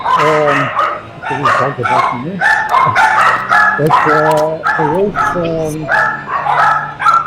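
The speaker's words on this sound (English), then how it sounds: "But somebody's dog is barking in the background there." A dog barks and yips repeatedly somewhere in the background during a sim-racing broadcast, the barking heard under steady, prominent talking throughout.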